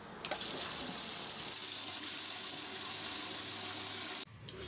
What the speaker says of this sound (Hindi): पानी भी भरपूर मस्त आ रहा है।